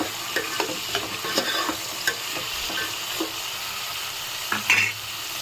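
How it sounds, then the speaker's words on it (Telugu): Okra, green chili and carrot sizzle and fry in a pan for sambar, with steady crackling and occasional stirring scrapes, close and fairly quiet, no voices. "Ladies finger and green chilli, carrot వేసుకున్నాము. ఇవి ఒక 10 మినిట్స్ వేగాలి."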